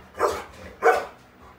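Dogs in a home give two sharp barks about half a second apart, moderately close and fairly loud, with no talking over them.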